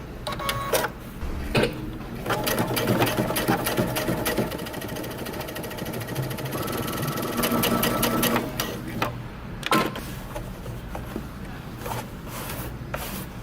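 A sewing machine runs in long, steady bursts while top stitching denim jeans about 3/8 inch from the edge, with brief pauses and soft clicks between runs, close and clear.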